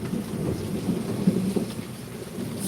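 A thunderstorm rolls on with steady rain hissing on surfaces and low, rumbling thunder underneath, continuous and fairly loud with no voices.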